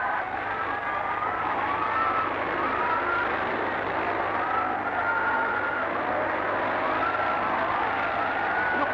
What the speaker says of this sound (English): Sidecars race clockwise, the opposite way to Solo Machine.